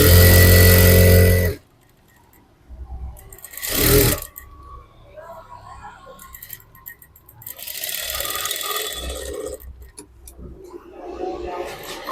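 A sewing machine stitches blouse fabric in a loud, short burst at the start. A brief second run follows, then quieter handling and rustling sounds.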